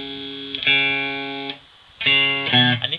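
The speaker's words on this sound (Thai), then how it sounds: "อันนี้เป็นเสียงคลีนนะฮะ" A clean electric guitar tone from a Line 6 Pocket POD Express modeler sounds as two sustained strummed chords separated by a short pause, with no talking.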